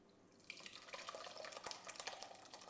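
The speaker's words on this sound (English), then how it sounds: "So I have my bowl and a sieve ready, so let's get that strained." Liquid from homemade mozzarella being strained through a sieve into a bowl, heard as a quiet, close patter of splashing and dripping that starts after a brief pause and runs on steadily.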